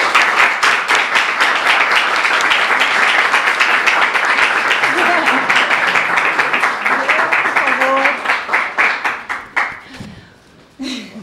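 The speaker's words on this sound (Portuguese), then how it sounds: "Gente, eu quero pedir uma salva de palmas para o dono da Imovision e da Reserva Cultural" Audience applause greets Jean Thomas, owner of the film distributor Imovision and the Reserva Cultural cinema, at a São Paulo actors' studio event: dense, loud, steady clapping with a few voices rising through it, thinning and fading out near the end.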